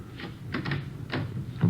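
A hotel back door being opened as a radio drama sound effect: a few separate clicks and rattles of handle and latch, then a heavier knock and creak, close and fairly loud, with no voices.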